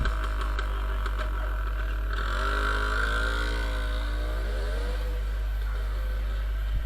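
An old Pannonia motorcycle engine runs with a steady low rumble after starting, its pitch rising and falling as it revs, loud and close throughout.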